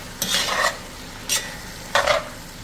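A spoon stirs garlic cooking in a pot at the start of a beef stew, giving three short scraping, sizzling strokes at a steady spacing, close and moderately loud, with no voices.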